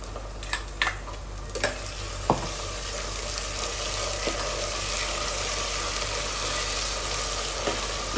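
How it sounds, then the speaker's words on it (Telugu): Green masala paste sizzles and fries in a pan for a country chicken curry, with a steady hiss and a few sharp scrapes and taps of stirring early on, continuous and fairly close. "ఈ పచ్చివాసం పోయే వరకు కలిపేస్తున్నాను"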